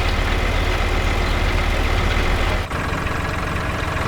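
A tractor engine in a farming simulation game drones with a steady low idle, loud and close, briefly dipping for a moment before settling back to the same even hum.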